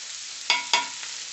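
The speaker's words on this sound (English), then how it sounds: "You want to hear that sizzle?" Steady bright sizzling of ribs frying in a pan on high heat, close up, with a couple of sharper crackles and scrapes.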